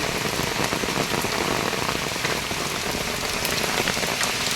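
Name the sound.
heavy rain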